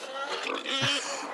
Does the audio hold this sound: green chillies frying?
no